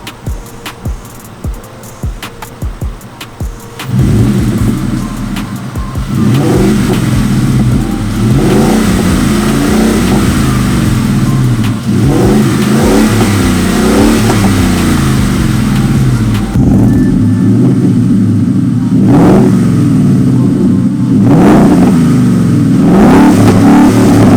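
A car engine idles briefly, then roars as it revs up and accelerates, holding a loud, throaty growl that rises and falls close by.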